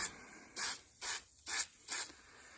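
Fluid Film rust protection is sprayed onto the suspension of a Silverado work truck in four short, even bursts of hissing aerosol, each about a third of a second long, with brief quiet gaps between them.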